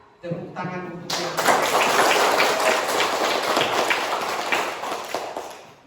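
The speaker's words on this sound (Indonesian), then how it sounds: "tepuk tangan untuk yang salah" A classroom of students claps together, a dense burst of applause that starts sharply after a brief lead-in and carries on loudly for several seconds before tapering off.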